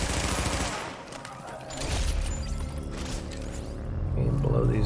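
Bursts of submachine-gun fire in The Division video game, dense continuous shooting layered under someone talking steadily over it.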